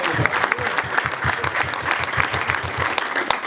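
An audience at a church service claps in a fast, steady rhythm, a dense run of sharp hand claps sounding together at close to moderate distance, without talk over it.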